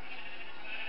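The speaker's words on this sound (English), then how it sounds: "I just burnt a sheep." A single sheep bleats in Minecraft, a short, clear, wavering cry heard up close with nothing else around it.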